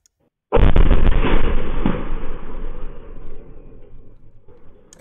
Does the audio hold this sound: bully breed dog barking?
no